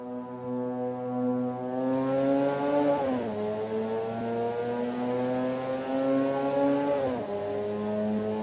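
Mazda RX8 race car engine in a racing sim on an out lap, a steady loud harmonic drone with two sharp dips in pitch, like quick throttle lifts or gear changes, then climbing again; no talk.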